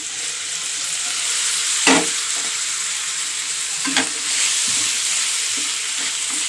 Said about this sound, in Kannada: ಇದು ಕೂಡ ಚೆನ್ನಾಗಿ ಫ್ರೈ ಮಾಡಬೇಕು ನೋಡಿ